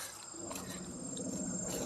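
Honey bees buzzing around farm hives, a continuous close hum with a high whine layered above, steady and fairly quiet throughout.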